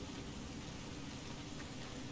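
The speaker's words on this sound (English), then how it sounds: "Here comes the rain." Steady rain pours in Resident Evil: Revelations 2 as a continuous, even wash of noise with no breaks, moderately loud and alone.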